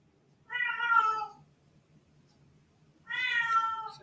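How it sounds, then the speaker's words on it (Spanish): A cat meows twice for attention, two drawn-out, clear cries about two and a half seconds apart, close and alone over a faint low background hum. "El gato pide atención."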